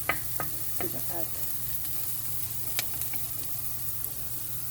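Food sautéing and being stirred in a pan, a steady close sizzle with scattered scraping and clinking from a utensil, no talk.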